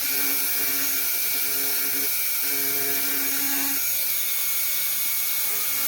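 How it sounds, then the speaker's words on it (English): A Dremel rotary tool fitted with a diamond burr carves a wooden cane, giving a loud, continuous high whine with shifting pitch as the burr bites into the wood. "Basically, all you're doing is replacing the sanding stick with the diamond burr."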